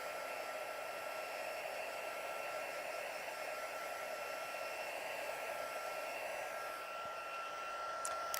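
A hair dryer blows steadily to dry wet DuoColor pencil colouring, a loud, constant close-up whoosh and whine with no voices over it.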